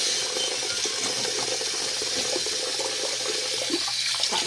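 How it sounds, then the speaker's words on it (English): Water pours steadily from a tap as a basin fills, a continuous broadband rushing gush that holds an even level throughout, close and loud, with no talking. "And this is the water filling up."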